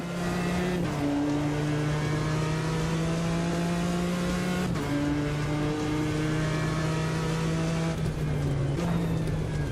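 Mini Cooper race car engine in a racing video game, a loud sustained drone climbing through the revs with several gear shifts, close and constant with no talking.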